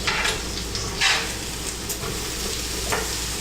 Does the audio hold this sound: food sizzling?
yes